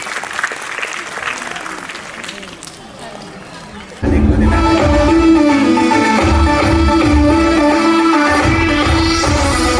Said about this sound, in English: Big round of applause to LKG kids.